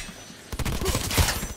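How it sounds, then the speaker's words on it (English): Gunfire in the video game Cyberpunk 2077 erupts after a half-second of quiet into a dense, loud burst of rapid shots with a heavy impact near the end, continuing without pause. "How did you shoot me from all behind all this garbage?"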